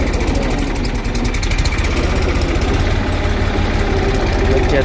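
A tractor drives through a groundnut field while the crop is being pulled, its engine a loud close chugging drone with rhythmic knocking pulses that stay steady throughout.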